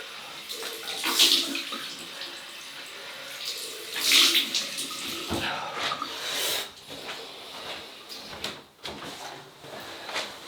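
Water splashes and runs from a tap at a sink during a cold rinse after a shave with a safety razor, close and uneven with surges of flow and handling clatter, and faint talk in places.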